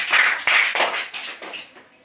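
A class of children claps together in a short burst, around six or seven quick claps, close and fading toward the end, with no talk.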